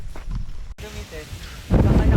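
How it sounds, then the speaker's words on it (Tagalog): Wind on a mountain hike on Mt. Batulao buffeting the microphone in heavy rumbling gusts, with a person talking briefly between blasts. "Grabe naman ang hangin."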